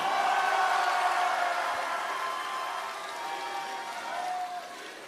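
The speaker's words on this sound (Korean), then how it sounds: "대구 경북의 제2, 제3 김부겸 청년들에게 응원의 박수를 보냅시다" A crowd at a Korean Democratic Party political rally applauds in a dense, sustained roar of clapping that starts strong, eases slightly and holds steady, with no voices standing out.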